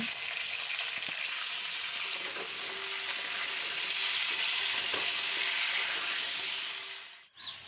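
Potatoes frying in hot oil give a steady, dense sizzle that fades briefly at the end with a small clink.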